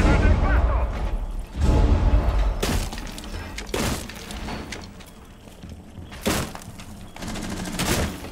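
Several heavy grenade blasts in Rainbow Six Siege burst out one after another, each a loud crack with rumbling debris, separated by quieter gaps of background noise.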